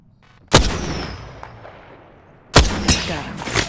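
Two heavy gunfire bursts in an Apex Legends match, each a sharp loud onset with a ringing tail, the first near 0.5 s and a louder cluster of rapid shots near 2.5 s.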